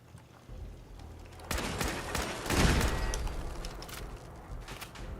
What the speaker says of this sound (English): Shooting roaches with a combat rifle, man.